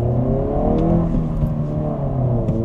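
2024 Honda Civic Si with a manual gearbox accelerating, a steady close engine drone rising through a gear, slightly lugging, heard from inside the car with no talking.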